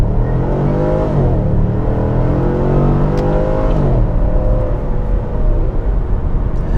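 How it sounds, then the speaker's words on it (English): A completely stock Chevy SS sedan's V8 accelerates smoothly, its engine tone rising steadily through a gear, dipping at a shift, then climbing again, close and fairly loud but not harsh. "just has a nice, smooth V8 tone to it"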